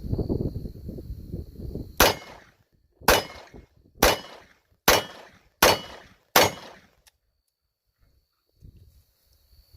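Six sharp, loud shots from a Smith and Wesson Model 13 revolver firing .357 Magnum rounds, spaced about a second apart, each with a quick ringing decay, following a stretch of talk and ending in near silence.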